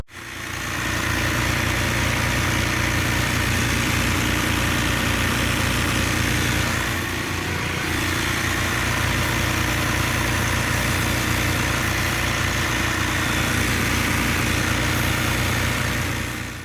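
A Freightliner Cascadia's DD15 diesel engine idles steadily and loudly for a long stretch, with a constant low rumble and a brief dip partway through.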